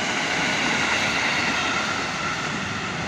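JR205 commuter train passing on the Kampung Bandan line, a continuous loud close roar of wheels and motors that holds steady throughout, with no talk.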